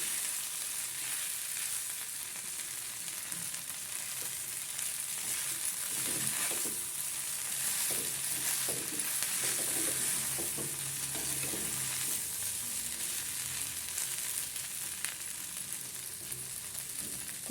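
Sabudana khichdi frying in a pan sizzles steadily and up close, with a spoon scraping and stirring through it now and then over about seventeen seconds.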